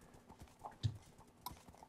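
Horse hooves clip-clopping during pony racing in a Hypixel video game, a few faint, spaced hoof hits alone without talk.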